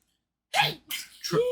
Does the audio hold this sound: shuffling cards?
no